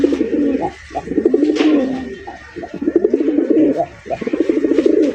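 A large male Rajgolla pigeon coos repeatedly up close, deep throaty rolling phrases broken by short pauses, loud and clear.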